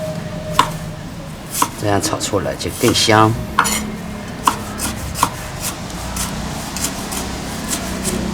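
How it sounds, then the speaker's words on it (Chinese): Ginger being chopped with a knife on a cutting board while making chili-fried konjac tofu: a few sharp, separate knife strikes spaced a second or more apart, close by, with a person talking over them. "切一点姜"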